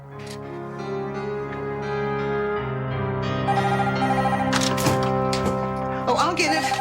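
A telephone rings in a home with music and talk underneath, the ring repeating over several seconds at moderate loudness.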